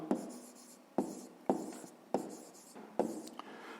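Pen strokes scratch on paper during a handwritten fifth-grade math exercise, faint and close, with sharp taps as each stroke begins and scratching between them at a regular pace.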